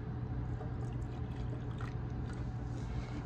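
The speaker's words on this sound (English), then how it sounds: "take some of your buffer and pour a little of it into the center" Liquid buffer poured into the center of a sealed gel cassette in a Bio-Rad tetra cell SDS-PAGE box, a steady soft trickle heard close up against a constant low hum for the whole stretch.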